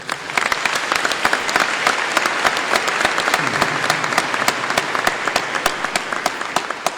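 Church congregation applauding at a Catholic service, a dense sustained round of many hands clapping, loud and steady throughout with no break.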